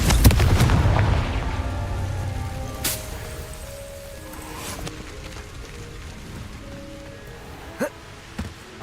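A Confringo fire spell explodes in Hogwarts Legacy, a loud booming blast at the start that fades into a long rumbling tail, followed by a few smaller sharp impacts near the end.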